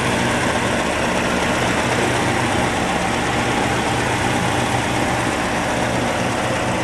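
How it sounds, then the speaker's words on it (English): A Mitsubishi 3000GT engine idles smoothly in an even, continuous low rumble. The tone stays steady with no revving, and no one speaks. "the motor is running smooth"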